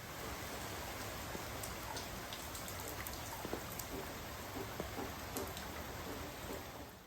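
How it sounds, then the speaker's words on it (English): Steady rain from a tropical storm in Florida, a dense even hiss of falling drops heard alone with a few sharper close drips and patters, nobody talking. "It's a nice rainy tropical storm kind of day in Florida."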